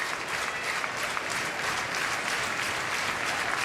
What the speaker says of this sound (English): Crowd getting behind Roth.